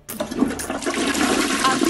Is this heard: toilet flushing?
yes